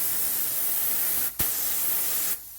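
A paint spray gun fires a short test burst of primer for a Ford F-150 fender repair at home: a steady close hiss for about a second, a brief break, then another hiss that cuts off abruptly.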